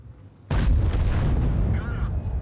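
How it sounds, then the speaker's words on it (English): A tank cannon shot in World of Tanks: one sudden heavy boom that hits hard and leaves a long rumbling tail, with faint game sounds after it. "I'm gonna have to just take this shot"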